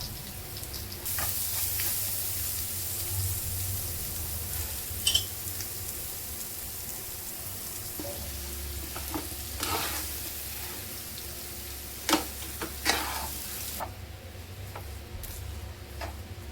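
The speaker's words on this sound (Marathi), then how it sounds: "एक चमचा मिरची आणि लसूण वाटून घेतलेलं ते टाकून घेऊया।" A paste of ground green chili and garlic fries in hot oil for vada pav, giving a steady close sizzle with a few spoon clinks and stirring scrapes against the pan.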